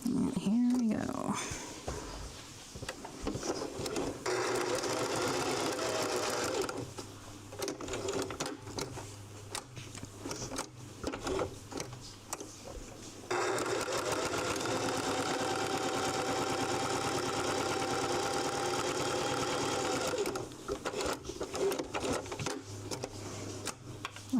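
A sewing machine double back-stitching the corners of fabric bookmarks, running in several long close bursts separated by short pauses, with a person talking in between.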